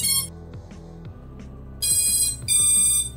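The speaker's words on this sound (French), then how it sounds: "Ça s'allume, il y a tous les bips" Startup beeps from an FPV drone's electronics, loud high-pitched tones sounding in short sequences over a steady low hum.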